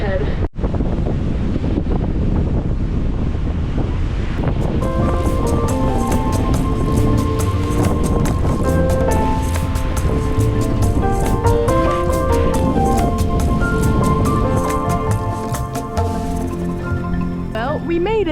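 Steady wind buffeting and choppy waves slapping a sailboat beating straight into the wind toward St. Barts, a loud, continuous roar with some tonal sounds running over it from midway on.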